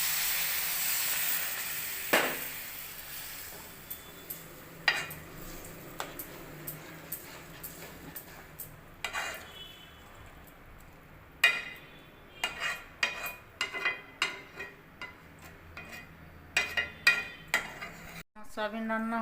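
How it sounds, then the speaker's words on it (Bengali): Fried soybean chunks stirred in an oily pan with a utensil, giving repeated close scraping and clinking strokes over a soft steady sizzle, irregular in rhythm. "এবার সয়াবিন ভাজাটা দিয়ে ভালো করে নাড়াচাড়া করে নেব।"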